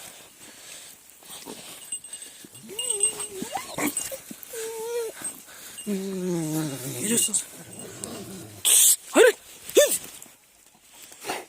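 Dogs whimpering and whining in rising, wavering cries, with short growly bursts and yips, someone speaking briefly among them.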